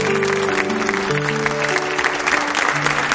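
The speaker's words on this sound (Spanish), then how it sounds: "Un aplauso para ellos, por favor." A television studio audience breaks into steady applause while sustained music tones play underneath, filling the whole moment at a lively level.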